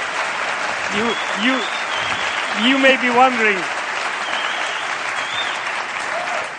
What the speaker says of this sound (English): You may be wondering why I'm clapping.